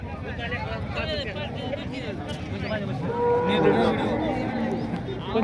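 Several cows moo loudly nearby at the Modnimb cattle market, long drawn-out calls overlapping amid a busy crowd of murmuring voices.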